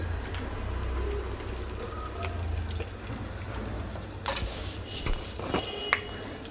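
Fenugreek, mustard seeds, cumin and broken dried red chillies sizzle in hot oil for a tempering, a steady crackling hiss with scattered sharp pops, close and moderately loud with no voices.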